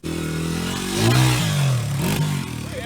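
A Honda XR100R pit bike engine revs hard, its pitch climbing and falling through a couple of throttle blips, loud and close with some mechanical clatter and no talking.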